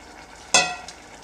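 Fried okra is tipped into a cooking pot for a tamarind sambar, giving one short soft splash and sizzle that fades within half a second against a quiet background.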